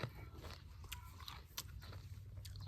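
Crisp, garden-fresh vegetables are bitten and chewed up close, making faint, repeated crunches over a quiet outdoor background.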